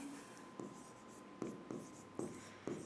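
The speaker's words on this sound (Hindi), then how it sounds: "लिख दूं यहाँ पे" Quick hand-writing strokes during a Hindi biology lesson on annelid worms, several short scratches in a loose rhythm, close and fairly quiet.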